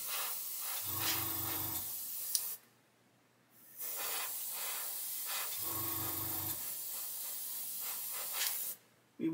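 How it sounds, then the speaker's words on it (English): An airbrush sprays paint onto a 1/48 Airfix Sea King helicopter model, a steady close hiss in two bursts of about two and a half seconds each, separated by brief silence, with no talking. "if I put the airbrush in the kind of direction of flow"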